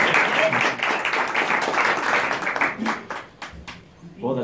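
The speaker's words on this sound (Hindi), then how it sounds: "एक दफा और जोरदार ताली बजाओ" Loud applause from a crowd, dense clapping that keeps up for a few seconds, then thins out and fades.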